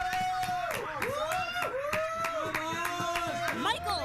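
Hands clap in a steady, rhythmic beat, roughly three claps a second, under voices that sing or chant with sliding pitches. A brief burst of other noise comes near the end.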